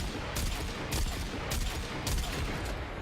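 The Kuva weapon in Warframe fires in a loud, dense burst of rapid shots with a few stronger cracks standing out, continuous and close for a few seconds.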